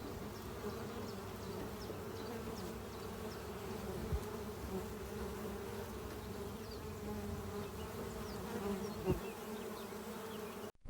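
Honey bees buzz steadily and continuously at close range while gathering spring pollen from cornelian cherry and dandelion, a dense, even hum with no voices.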